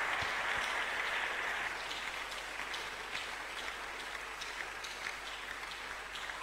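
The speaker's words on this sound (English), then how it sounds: "Let's give him a good clap of from somebody." A church congregation claps at a Wednesday service, with a sustained, dense round of applause that starts fuller and gradually thins to scattered claps at a moderate distance.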